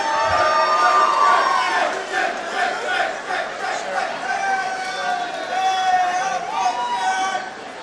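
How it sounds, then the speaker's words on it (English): A high school graduation audience at a commencement ceremony cheers and shouts in a sustained, loud wave of crowd noise, with whoops and chatter blending together for several seconds. "Can we just ask you to please hold your applause until the end?"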